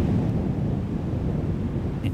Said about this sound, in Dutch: Het is koud, regenachtig en er is veel wind.